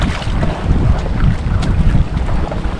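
Strong wind roars and buffets the microphone continuously at sea on a fishing trip, with a broad rushing sound like open water beneath it; no voices.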